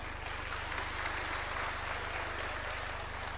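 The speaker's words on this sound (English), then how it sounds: "Another round of applause for NC" Steady applause from an audience at a political address at Tom Mboya University in Homa Bay, Kenya: a dense, even patter of clapping that holds at the same loudness throughout.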